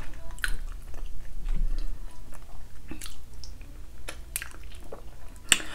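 Close, wet mouth sounds from eating fufu with GB soup during a mukbang: soft squishy chewing and swallowing, with occasional sharper clicks and smacks and no talking.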